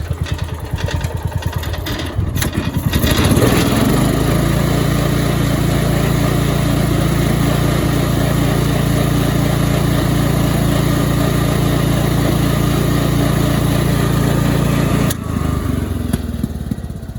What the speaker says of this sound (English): Let's give it some gas.